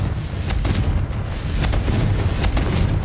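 A Confringo spell bursts in Hogwarts Legacy, a loud booming explosion with rumbling crackle that carries on for the whole stretch, with no voices over it.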